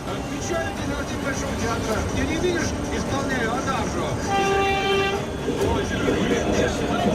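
A train passing a railroad crossing, rail rumble with the horn sounding in sustained blasts, while a narrator speaks over it.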